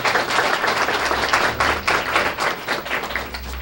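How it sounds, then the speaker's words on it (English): Steady round of audience applause at a Student of the Month ceremony, dense clapping from a crowd filling the room at a constant level for several seconds. "let's have a nice round of applause for all of them"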